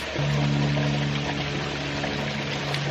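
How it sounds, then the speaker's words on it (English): Water rushes out of a pressure tank through an opened ball valve on a ram pump setup, a steady, loud hissing flow with a humming tone that runs throughout without a break. "open this up briefly, drain the water out, and then close it"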